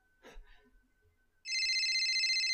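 A telephone in the horror game Abandoned abruptly starts ringing, loud and piercing with a continuous electronic trill, after a brief sharp breath and near silence.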